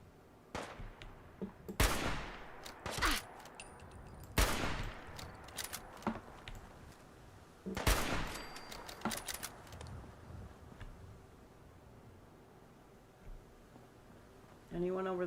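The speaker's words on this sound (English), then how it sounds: "Anyone over there still shooting?" Gunfire in the post-apocalyptic shooter Fallout 4 rings out in several sharp, loud shots spread irregularly across the clip, with a quieter background hum between the bursts.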